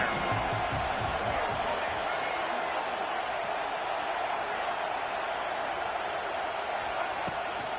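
In College Football 26, a stadium crowd keeps up a steady, dense roar throughout, loud and unbroken, with a commentator speaking over it.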